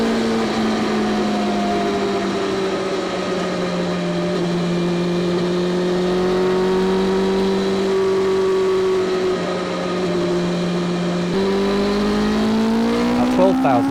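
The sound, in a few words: BMW M1000XR motorcycle engine while riding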